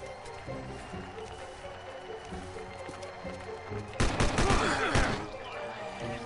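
Gunfire from a sniper rifle in the zombie game Land of the Dead, a loud burst of shots about two-thirds of the way through over a steady game background, with someone talking.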